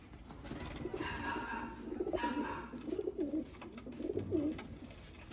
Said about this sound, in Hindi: ये है जी बटेरा कबूतर।